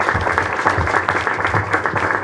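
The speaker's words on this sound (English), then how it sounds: "Let's give them a big round of applause and a thank you." An audience at a community evening event applauds in a steady, dense patter of clapping that holds at moderate loudness across the short stretch.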